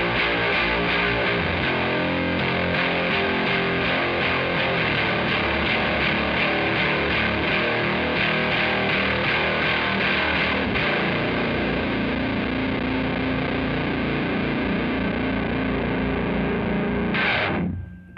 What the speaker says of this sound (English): The octave fuzz here has a really crushing texture.